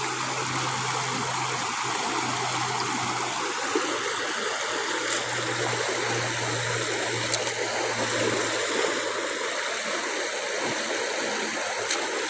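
A stream flows steadily and fairly loudly, a constant rushing wash of water with faint trickling detail and no voices.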